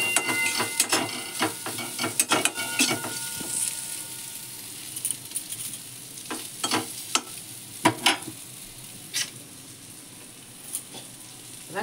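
A spoon stirs and scrapes through spices frying in a pan with a dry-roasted ground mix of radhuni, mustard and panch phoron, giving bursts of sharp clinks and scrapes over a soft sizzle.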